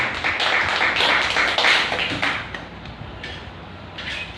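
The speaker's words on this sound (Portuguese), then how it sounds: "Dê uma salva de palmas bem forte para Deus." A church congregation gives a strong round of applause to God during a service, close dense clapping that fades toward the end.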